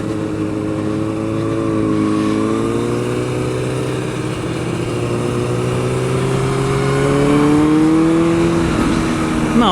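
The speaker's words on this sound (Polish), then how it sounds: "Zaraz zacznę jechać to pierwsze okrążenie, jeszcze dwa. Na lekkie dogrzanie motora." A motorcycle laps a race track at Tor Radom, its engine droning loudly and steadily with rising and falling pitch as it accelerates and eases through the warm-up lap.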